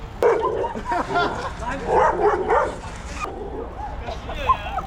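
A dog on a street where riders are out dirt jumping yelps and whimpers in a rapid string of sharp cries after being kicked, close and loud, with people's voices mixed in.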